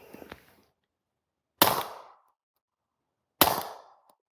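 Two sharp suppressed gunshots through an Osprey suppressor ring out outdoors at a range, spaced well apart, each a loud crack with a brief decaying tail.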